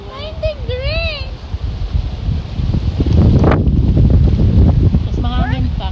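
Strong, cold wind blows steadily outdoors as a family travels, a broad rushing roar that swells louder in the second half, with children and adults talking over it nearby.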